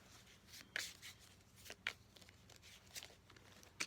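A deck of oracle cards being shuffled by hand, heard as soft, sparse papery riffles and snaps spaced a second or so apart against a quiet room.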